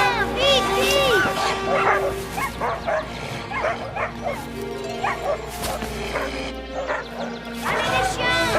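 Several dogs bark and yelp excitedly at close range, overlapping in frantic bursts, with a person shouting among them.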